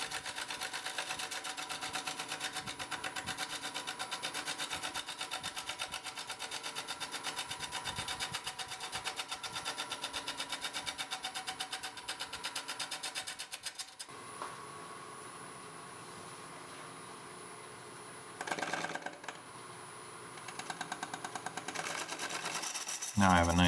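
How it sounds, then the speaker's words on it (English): A gouge makes a push cut on a large pine segmented ring spinning on a wood lathe: a steady, dense scraping hum that shifts in tone partway through, dips briefly, then returns at full strength. "so I'm doing a push cut, riding the bevel of the gouge on the wood, getting a much better cut"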